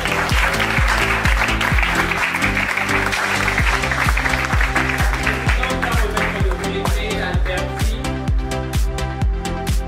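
Audience applause with cheering at an event, steady loud clapping throughout and rhythmic pulses like chanting or music underneath, crowd noise filling the whole stretch.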